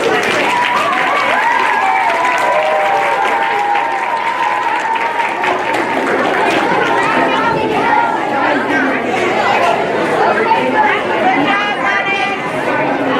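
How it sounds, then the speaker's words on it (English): Audience applause for a teacher at a school celebration, sustained, dense clapping throughout with crowd chatter mixed in, steady and loud from start to finish. "Another round of applause for Mrs. Ross McCaffrey"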